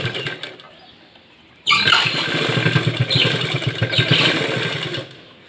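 A sewing machine stitches piping onto fabric, starting abruptly after a quiet moment and running as a fast, steady mechanical whir with rapid ticking, loud and close, before stopping near the end.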